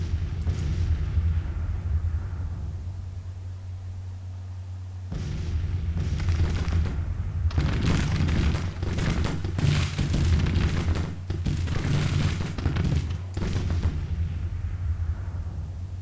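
Howitzer artillery firing in Grand Tactician: Civil War: repeated booming blasts and rolling rumble over a steady low drone, growing denser and more continuous through the second half.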